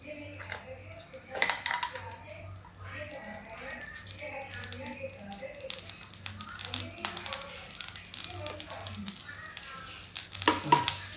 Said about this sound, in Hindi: अब तेल गरम है। सबसे पहले इसमें जीरा पड़ेगा, हींग पड़ेगी